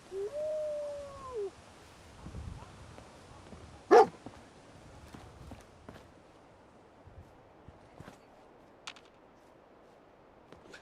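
Dogmeat, the German Shepherd companion in the video game Fallout 4, gives one sharp bark mid-clip, preceded by a short whine and followed by faint scattered game sounds against a quiet background.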